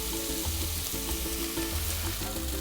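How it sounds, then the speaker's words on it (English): Onions sweat in a pan with salt and pepper, giving a steady, soft frying sizzle with faint crackles throughout. "once you sweat down your onions"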